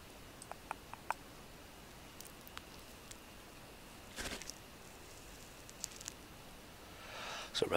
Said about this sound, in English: So right now it's raining